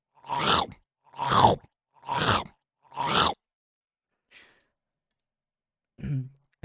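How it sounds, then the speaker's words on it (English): Chomper enemy attack effect from The Explorer: 3D Game Kit: four loud, evenly spaced breathy snarling bursts, followed by a faint blip and one short closing growl. "The chomper attack sounds like this."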